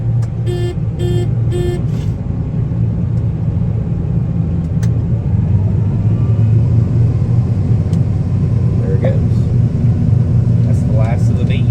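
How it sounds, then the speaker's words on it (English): A combine's unloading auger runs into a wagon during a double-crop soybean harvest, heard as a loud, steady mechanical rumble and drone throughout, with a few short electronic beeps near the start. "Turn my auger on here."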